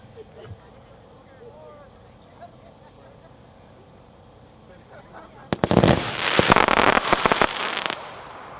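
The Close Air Support firework cake, a 50-shot consumer cake, starts after a quiet stretch with rapid loud launches and crackling bursts in a dense barrage lasting several seconds, heard outdoors at a moderate distance.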